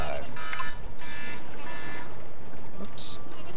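An alarm clock goes off during a game of ANNO 1404, sounding three evenly spaced buzzing electronic bursts followed by a sharper, higher beep over steady background noise.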